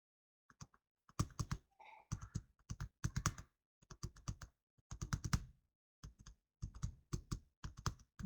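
Text is typed on a computer keyboard in short bursts of quick, crisp key clicks separated by brief pauses, close and clear with no talking.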